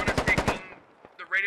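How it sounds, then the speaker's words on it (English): Rapid automatic rifle fire in the tactical shooter game Squad, a burst of about five loud, evenly spaced shots followed by a fading echo tail and faint distant pops. "Evan's putting rounds towards Salty Toast."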